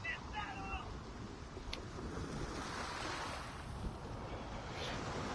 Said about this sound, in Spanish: Aprovechemos a escuchar un poquito el sonido del mar. Está bastante relajante.